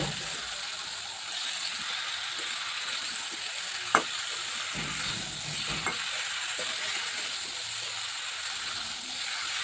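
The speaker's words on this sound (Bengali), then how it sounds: "এবার আমি বেগুন আলু সিম এগুলো দিয়ে দিচ্ছি এবার ভালোভাবে নেড়েতে আমি কিছুক্ষণ কষিয়ে নেব" Eggplant, potato and flat beans are stirred and fried in a pan. A constant low sizzle runs under scattered clicks and scrapes from the spatula, with one sharper knock partway through.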